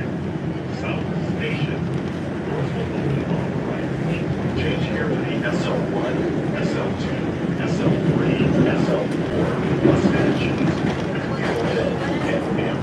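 An MBTA Red Line subway train rumbles and rattles steadily throughout, with clicking wheel noise over a dense, constant roar while voices can be heard beneath it.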